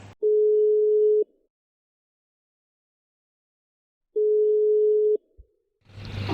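Two steady ringback tones on an outgoing phone call to a friend, each about a second long with a long silent gap between, clear and alone before faint noise at the end.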